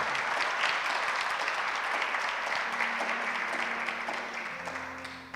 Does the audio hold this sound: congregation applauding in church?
yes